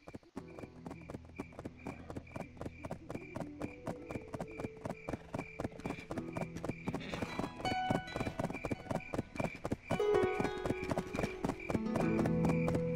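Donkey hooves clip-clop steadily in the video game Black Desert, an even rhythmic walking beat of hoof strikes that quickens and grows slightly louder toward the end, with game background sounds underneath.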